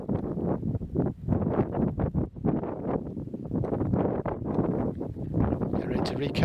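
Wind buffets loudly at a River Severn riverbank, rumbling in uneven gusts, with someone talking through it.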